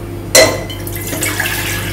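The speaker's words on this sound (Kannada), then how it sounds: "ಒನ್ ಆ್ಯಂಡ್ ಹಾಫ್ ಗ್ಲಾಸ್ ನೀರು ಹಾಕಿದ್ದೀನಿ" Water poured from a glass into a cooking pot while making ragi mudde in a home kitchen, a sudden close splash followed by a brief trickle that fades into a steady low hum.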